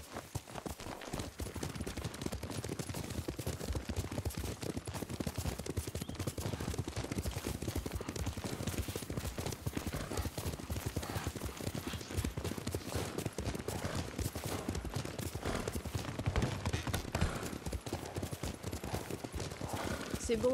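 Horse hoofbeats clip-clop steadily through a ride in the Ghost of Tsushima video game, a continuous galloping rhythm at moderate level mixed with game ambience and talk throughout.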